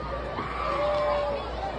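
An outdoor crowd of eclipse watchers murmurs steadily as totality ends. The voices blend into a continuous hubbub with a faint rising whoop or cheer, and no single voice stands out.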